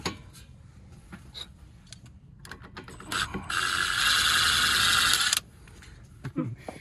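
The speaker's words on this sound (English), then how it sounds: "grab a 17mm open end wrench, and with the ratchet you're gonna go" Ratchet wrench turning a bolt on a 2018 Toyota Highlander during a front lift kit install: scattered small metallic clicks, then a rapid, sustained ratcheting burst of about two seconds up close before it stops.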